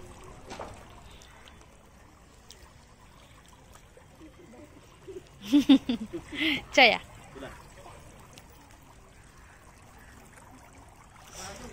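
Cold water poured out in a few short splashing bursts while someone washes their feet, close by against a quiet outdoor background, with brief voices nearby.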